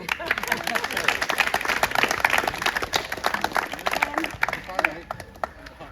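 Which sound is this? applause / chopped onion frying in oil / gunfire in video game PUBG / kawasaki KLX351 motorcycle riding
applause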